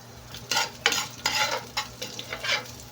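Garlic and onion fry in oil in a pan while being stirred, a close, continuous sizzle broken by rhythmic bursts of scraping and tossing.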